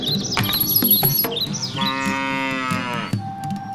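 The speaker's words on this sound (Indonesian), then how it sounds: "Dan mereka membeli seekor sapi." A cartoon cow lets out a long, loud moo with a rich harmonic tone, set over lively background music and bright chiming effects.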